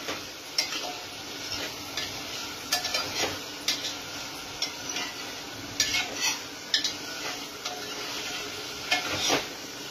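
Marinated paneer cubes frying in a pan and gently stirred for dhaba-style paneer masala: a continuous soft sizzle with repeated light clinks and scrapes of a spoon against the pan, steady and close.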